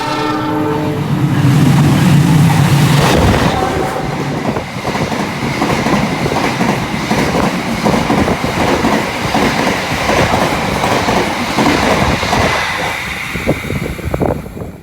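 The Argo Sindoro passenger train rumbles past close by in Indonesia, its horn sounding early on, then a steady rolling clatter of wheels and carriages that continues loudly to the end.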